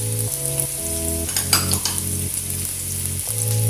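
Chopped onion and garlic browning in a hot pan for an aloo chicken dish, with a steady loud sizzle and close scraping and stirring clinks of a utensil against the pan.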